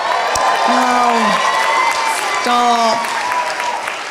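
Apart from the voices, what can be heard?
stand-up comedy audience cheering and applauding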